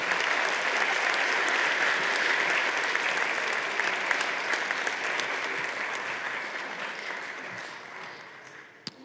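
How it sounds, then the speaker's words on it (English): Audience at a middle school spring band concert applauding the 8th-grade solo ensemble, a long, steady wash of many hands clapping that slowly thins and softens toward the end. "Let's give them a round of applause."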